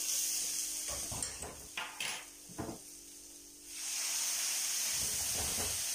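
Water is poured onto browned onions in a hot pan, setting off a loud, steady steam hiss after a few clinks and scrapes of utensils against the pan, with the hiss dropping briefly before rising again and holding.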